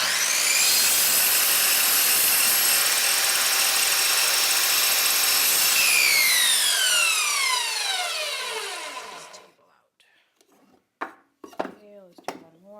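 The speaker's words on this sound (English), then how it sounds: "I'm using this cheap saw that I got from Harbor Freight for a minute" A cheap Harbor Freight power saw cuts wood for parrot toys, a loud high-pitched whine that winds down with falling pitch as the blade slows, followed by a few sharp knocks of wood being handled.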